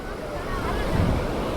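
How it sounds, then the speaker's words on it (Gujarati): Sea waves at Mandvi beach in Kutch wash in a continuous roar, with heavy wind buffeting the microphone throughout. "અને ભાઈ દરિયો જો એકદમ મસ્ત મજાનો છે મિત્રો, એકદમ ચોખ્ખો દરિયો છે."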